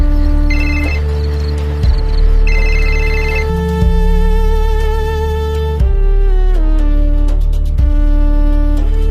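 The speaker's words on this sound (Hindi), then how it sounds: "एक बार फोन लगाता हूं" Telephone call ringing: a loud electronic ringtone of repeating tonal beeps and chimes in a steady pattern, playing alone and close throughout.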